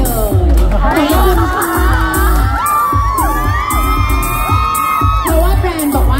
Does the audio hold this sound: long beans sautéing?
no